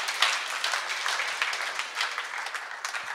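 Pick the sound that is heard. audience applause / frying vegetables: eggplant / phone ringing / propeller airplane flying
audience applause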